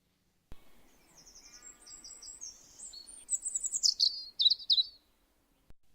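Birds chirping close by, a run of quick high tweets and trills that grows busier and louder toward the end, with no voices.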